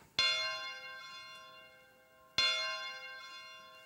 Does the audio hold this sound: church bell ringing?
yes